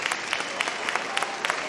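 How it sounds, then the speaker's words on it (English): Audience applause rings out at the Crufts dog show during terrier group judging, a dense, steady patter of clapping with scattered sharper claps across the whole span, fairly near and full, with no talk over it. "Just listen to the applause."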